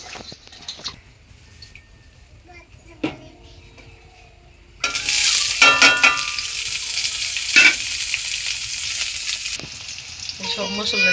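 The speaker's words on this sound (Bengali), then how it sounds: "এই যে মাছ ভাজি করে দিমু" Pabda fish hits hot oil and fries with a loud, crackling sizzle after a quiet stretch of faint kitchen clatter, with spatula stirs and clinks sounding over the frying.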